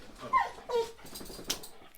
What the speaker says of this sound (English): I could hear the dogs coming